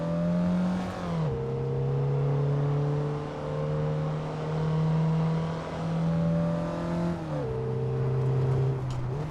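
A race car in Assetto Corsa powers out of a tight corner, its engine note rising steadily. Two sharp drops in pitch mark gear changes along the way, and the whine stays loud and close with no talking.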